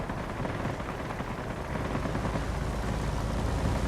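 Gatling cannon fire and engine roar from a fighter plane in the video game World of Warplanes, a dense, continuous rattling burst over a loud steady drone, close and unbroken throughout with no voices.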